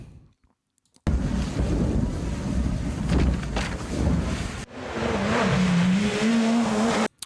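A Peugeot 306 or 308 rally hot hatch roars past up close, engine wailing hard with wind buffeting, then cuts briefly before another loud, sustained high-revving pass with a steady engine note.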